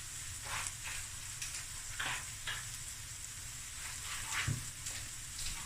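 Tomato sauce with tuna for spaghetti being stirred in a pan, a soft continuous sizzle and hiss broken by several brief scraping strokes, quiet and close, with no voices.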